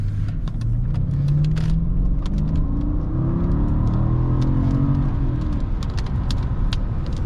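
A 2012 Mercedes-Benz S550 sedan accelerates hard, its engine rising in a loud, steady drone heard from inside the cabin, with rumbling road noise and small clicks over the top and no talk.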